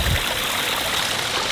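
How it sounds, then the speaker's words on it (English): Continuous rushing water from a small cascade, a steady close hiss and splash without pauses or voices. "Look at that beautiful waterfall."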